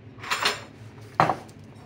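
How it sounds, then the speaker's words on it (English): A knife slices cooked, still-hot potatoes against a dish, making two short, close clinking strokes with quiet pauses between them. "Next step is to slice your potatoes"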